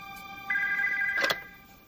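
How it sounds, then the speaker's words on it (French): A telephone rings at home at night, a single clear electronic ring tone holding steady for over a second in a quiet room. "Nous nous mettions au lit quand le téléphone a sonné."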